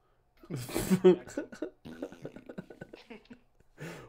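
A person imitates fart noises with their voice during a tabletop Dungeons & Dragons game session, a string of short, wet, sputtering bursts followed by a brief pause and one final puff.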